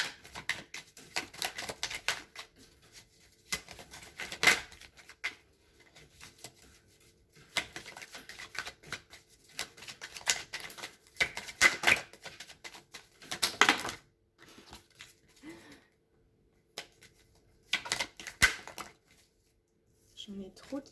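Tarot cards being shuffled and drawn by hand, dry papery riffles and flicks in short irregular bursts separated by quiet gaps, close and soft.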